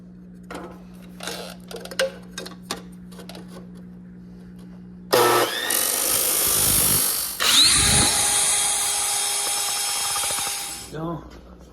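A power tool cuts, then drills, a motorcycle fairing bracket for a Yamaha batwing fairing: light tapping and clicks first, then two loud sustained grinding, whirring bursts that spin down at the end.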